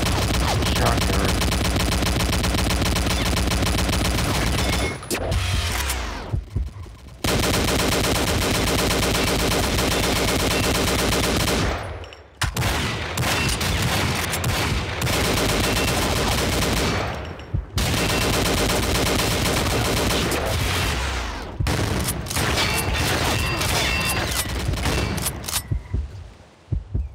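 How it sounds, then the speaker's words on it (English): Loud, dense shotgun gunfire in the video game Arms Race, a fully automatic shotgun firing in long sustained bursts broken by a few brief pauses, close and dominating throughout. "One hit kill with a shotgun."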